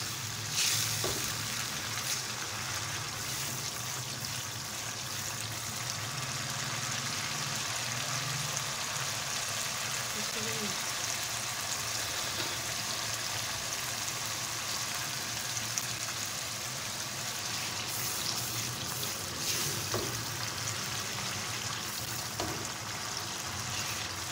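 Daal maash with fenugreek frying in a pan: steady close sizzle of hot oil with occasional stirring scrapes and small pops, continuous throughout with no talk.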